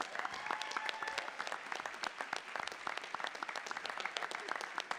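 Dense, steady applause from an audience at a state bar association's annual meeting awards presentation, many hands clapping continuously and evenly for the full stretch with no voices rising above it.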